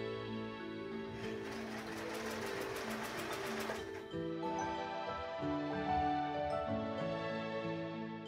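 Sewing machine stitching fabric for a walking skirt, a close continuous whirring hum with a rapid rattling burst early on, then steady motor tones that shift in pitch.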